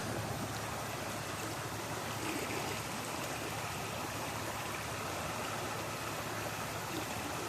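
Water flows steadily in an outdoor stream, a constant, even rushing and trickling wash with no voices, fairly quiet and unchanging from start to finish.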